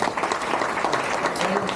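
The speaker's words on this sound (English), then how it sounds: "could we get one more round of applause for Nikolai and John?" Brief burst of crowd applause at a memorial gathering, fairly loud dense clapping filling the short moment, with faint voices mixed underneath.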